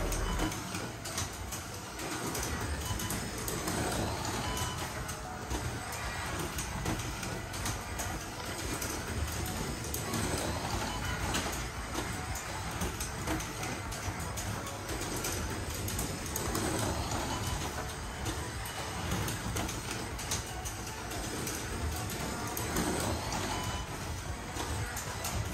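Carrera 124 scale slot cars, a Ford GT40 and a Ferrari, race on a track with a continuous loud whirring electric motor drone and rattle that holds steady throughout, with no talk.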